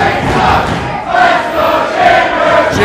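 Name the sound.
wrestling crowd cheering for Chambers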